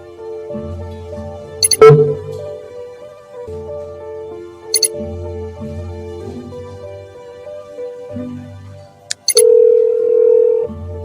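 Telephone dial tone from the Nancy Drew: 7 Keys video game, a steady loud tone running through the clip with brief clicks and changes as the line shifts, and a sharper tone near the end.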